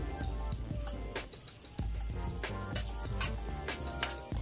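Garlic frying in a pan while cooking chicken necks, a constant close crackling sizzle with scattered pops and light scraping of a utensil against the pan.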